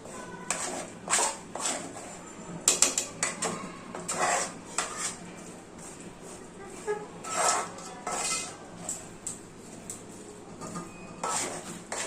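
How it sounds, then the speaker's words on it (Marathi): Roasted onion and coconut are sautéed in oil in a pot for a Malvani mutton rassa, heard as repeated scraping and clanking of a metal spoon against the pot in uneven bursts over a faint background, no voices. "हे आपल्याला असं छान तेल सुटेपर्यंत परतून घ्यायचं आहे"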